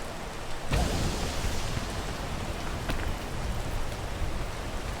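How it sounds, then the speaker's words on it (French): Steady rain in a video game hisses evenly throughout, a dense wash of falling drops with a sharper burst near the start and no voices. "Il pleut, ça passe."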